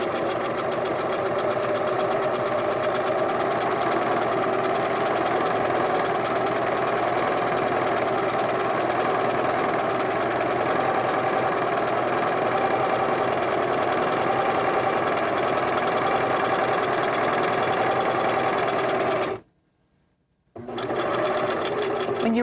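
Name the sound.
sewing machine sewing a straight-stitch quilt seam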